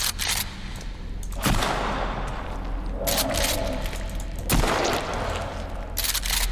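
Double-barreled shotgun blasts in the Sons of the Forest video game, several loud booming shots spaced a few seconds apart over a constant noisy game background.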